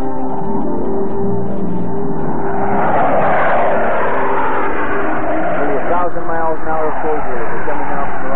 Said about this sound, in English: allowing those two General Electric J79 engines to power these aircraft to drive his F4J straight up